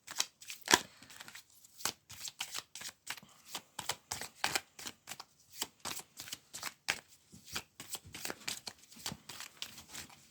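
Tarot cards being shuffled by hand, a quiet close run of irregular riffling snaps and soft slaps, with a few cards dropping, no speech.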